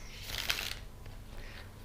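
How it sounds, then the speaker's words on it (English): Tarot cards being shuffled during a card reading, a brief papery riffle and flutter rising to a peak then trailing off into quiet rustles, close and alone with no talk. "Give it one more shuffle."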